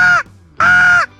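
Two loud, harsh caws from crows during a shoot to control crows ravaging crops, each call lasting about a quarter to half a second with a short gap between, close and alone.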